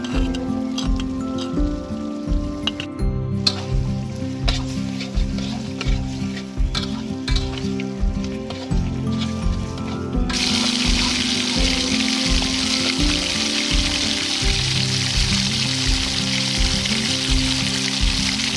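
Mutton fries in a pan with a loud, steady sizzle, broken by rhythmic stirring and scraping at first, then a fuller, hissing fry after fried onion paste goes in.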